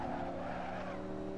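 A Lamborghini brakes hard on track, its tires skidding and squealing under a loud, close engine drone that drops in pitch over a second and a half, with no talk.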